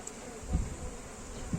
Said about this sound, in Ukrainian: у мене українська степова пчола